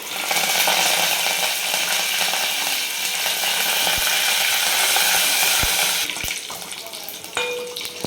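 Curry leaves and red chilli sizzling in hot tempering oil in a Maharashtrian kitchen, a loud steady crackling hiss throughout, with a few light clinks and a brief drop in intensity near the end.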